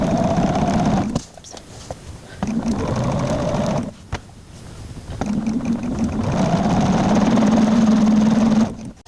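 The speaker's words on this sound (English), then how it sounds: "now I need to stitch down the opposite side now" A sewing machine runs in steady, loud bursts as fabric is stitched down along one side, with short pauses between runs of stitching.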